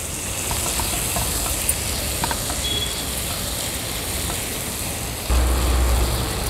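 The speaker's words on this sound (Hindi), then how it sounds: "टोमॅटो पण व्यवस्थित मिक्स करून घेते।" Tomatoes and onions cooking in a pan for prawn kheema, a steady soft hiss and sizzle with faint stirring clicks running throughout, growing slightly louder near the end.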